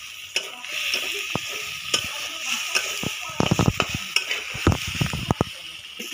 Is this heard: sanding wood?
no